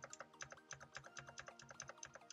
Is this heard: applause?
no